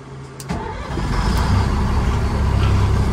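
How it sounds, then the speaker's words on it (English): A Stewart & Stevenson truck engine cranks with a short click and whine, then catches and settles into a loud, steady rumbling idle close by. "So that's how we fire the truck up."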